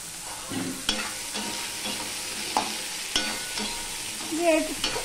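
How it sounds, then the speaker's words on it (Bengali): Potatoes and onions fry with turmeric, salt and chillies for a fish head curry, a steady sizzle broken by several clinks and scrapes of a stirring spoon, with a brief squeaky scrape near the end. "এটাকেও আমি ভালো করে ভেজে নেব, আলুটাকেও।"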